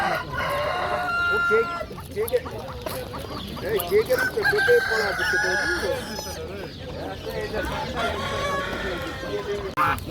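At Jomashuy poultry market, a rooster crows loudly and close, drawn-out calls rising over clucking fowl and general market bustle, while someone talks through the scene.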